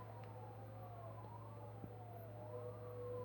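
Police car siren wailing in the racing video game Need for Speed Hot Pursuit, a faint rising and falling tone over a steady low engine hum.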